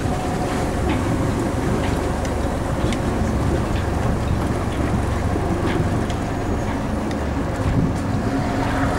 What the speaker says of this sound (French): Ensuite je manœuvre avec les deux moteurs.